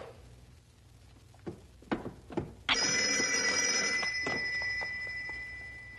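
A few soft knocks, then a telephone bell starts ringing loudly and continuously, a bright metallic trill that dominates the room.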